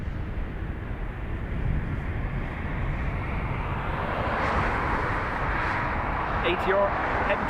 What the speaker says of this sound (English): ATR heading to Glasgow.